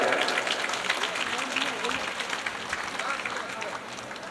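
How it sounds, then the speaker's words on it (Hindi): Audience clapping hard at a Hindu devotional katha gathering, dense and continuous throughout, staying loud and fading only slightly toward the end. "एक बार इन सभी के लिए जोरदार तालियां बजाएं"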